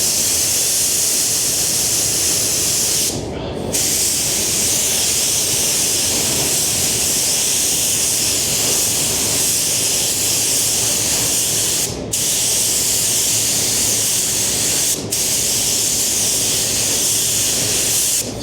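A spray gun lays a full paint coat on Lamborghini Revuelto panels in a continuous loud hiss that lasts throughout, broken only by a few brief trigger releases.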